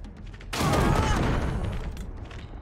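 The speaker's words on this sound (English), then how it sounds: "Let's throw a frag grenade." A frag grenade in Wasteland 3 goes off with a sudden loud blast after a quiet moment, the boom rolling and crackling for a couple of seconds before fading out.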